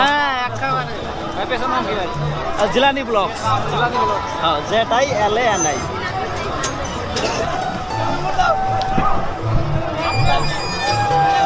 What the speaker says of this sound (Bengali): এত ভিড় গো, এত ভিড়, সবাই চড়ার জন্য ব্যস্ত।